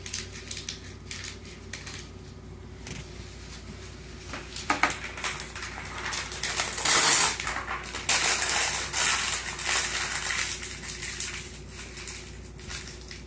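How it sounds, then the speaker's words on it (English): Paper is crumpled by hand to add bulk to a wire sculpture, producing a long stretch of close crackling and rustling that grows louder midway and then continues in bursts. "I just crumple paper and I just add it to my sculpture"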